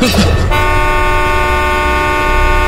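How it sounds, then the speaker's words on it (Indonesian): A car horn blares in one long, loud, unbroken steady tone lasting several seconds, right after a brief burst of noise, close by on a dark road at night. "terdengar suara klakson mobilku berbunyi."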